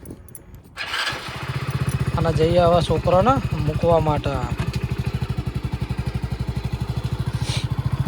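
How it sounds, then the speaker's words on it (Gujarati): A motorcycle engine catches and settles into a fast, even putter with a regular pulsing beat, close by, while someone talks over it for a few seconds. "ચલો બાઇક સ્ટાર્ટ કરીએ"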